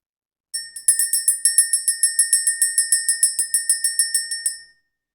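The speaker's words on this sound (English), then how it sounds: "We're going to ring the bell, clear the energy" A small bell, bright and high, is struck about twenty times in an even, rapid rhythm, each ring clear and close with a short decay and no voices around it.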